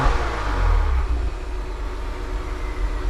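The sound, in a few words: Acura TLX Type S turbo engine revving with PRL air filter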